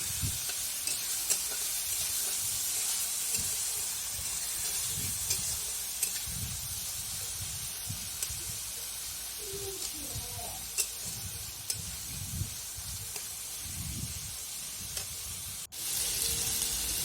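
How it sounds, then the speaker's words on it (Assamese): Continuous sizzling and hissing from vegetables and dried fish frying in a pan, with occasional stirring scrapes and faint low background sounds throughout. "এতিয়া সকলোবোৰ ভালকৈ ভাজিম"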